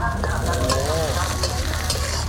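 Batter and egg fry on a hot griddle at a street food stall during a local Thai annual festival, with a loud, steady, close sizzle, scraping stirring and a crowd murmuring in the background.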